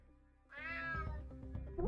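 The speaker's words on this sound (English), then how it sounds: "Damn cat." A single drawn-out cat meow from the UNmetal stealth game rises clearly over a low game ambience, followed by soft footstep-like thuds.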